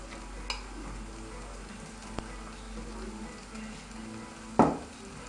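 Fried rice with ham and peas being stirred in a pan, a faint sizzle under soft scraping, with a few light clicks and one sharper knock of utensil on pan near the end.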